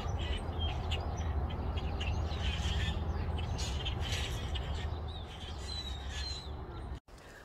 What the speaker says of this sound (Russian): Что за птички, интересно? Скворцы, наверное, да?